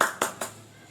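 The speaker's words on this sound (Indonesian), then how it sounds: "Tepuk tangan lagi untuk Suci." In an Indonesian school classroom, a few students clap for a classmate: three sharp, quiet hand claps spaced evenly within a second, fading after the last.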